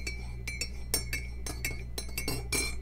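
A metal spoon clinks repeatedly against a coffee cup while stirring in sugar and milk, a run of bright, close taps in an irregular rhythm over a quiet background.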